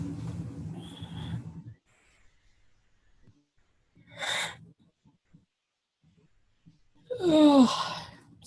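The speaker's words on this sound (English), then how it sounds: "Oh, sorry for the yawn." Person yawning, a long breathy exhale that rises and then falls in pitch near the end, following earlier breathy sounds and quiet gaps.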